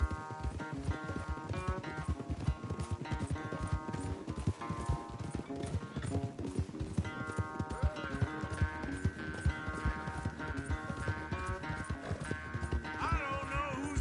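Horses galloping in a race in the video game Red Dead Redemption 2, a fast continuous clatter of hoofbeats with an occasional whinny, over a sustained musical score.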